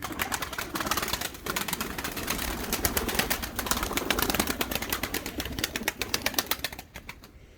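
Pigeons in a coop, including a seven-year-old bird, flutter and shuffle close by, with rapid wing flaps and scratchy clattering bursts throughout that thin out at the end.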